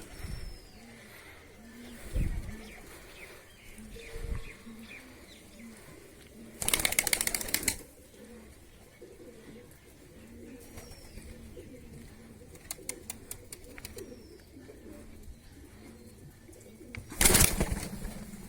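Pigeons coo softly and repeatedly in the background, with two loud bursts of wing flapping nearby and a few other brief noises in between.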